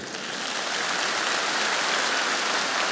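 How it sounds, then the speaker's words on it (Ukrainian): A large audience gives dense, continuous applause for a volunteer called up from the hall at a comedy league show, a steady roaring patter of many hands with no break. "Під оплески!"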